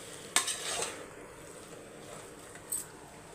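Chicken masala is stirred and mixed in a pan with a low sizzle underneath and two brief scraping clinks of the spoon against the pan, quiet and close.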